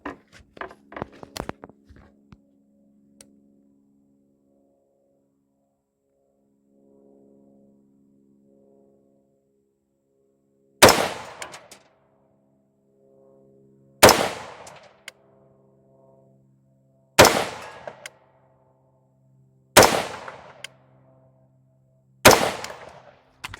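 Five sharp rifle shots fired during a skill-building drill, loud and evenly spaced a few seconds apart, each ringing out with a short metallic echo, after some faint earlier clatter.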